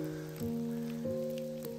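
Steady soft rain falling on a mossy forest trail at the start of the Tengu-dake climb in the Yatsugatake mountains, with a few clearer drops tapping close by over a sustained low hum.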